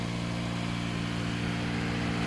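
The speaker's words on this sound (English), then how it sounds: "Oh yeah, there's an exhaust leak, I think." A 2008 Toyota Matrix with a timing-chain engine idles shortly after a cold start, a steady low hum with a faint ticking exhaust leak running evenly and close throughout.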